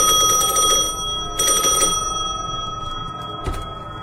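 A service bell rings in short bursts, two close metallic ringing stretches followed by a fainter single tap, set in a quiet room.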